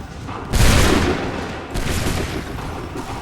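Soldiers fire a massed musket volley in Assassin's Creed III Remastered: a loud crashing burst of gunfire, then a second ragged volley about a second later and a smaller crack near the end.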